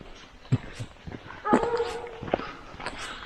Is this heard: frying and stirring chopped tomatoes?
no